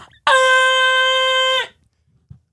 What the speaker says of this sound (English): you guys want to hear my air horn?